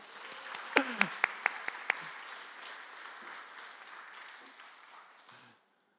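A church congregation applauds at a Christmas thanksgiving service, a dense, fairly soft wash of clapping with a few sharp close claps early on, gradually thinning and fading out near the end.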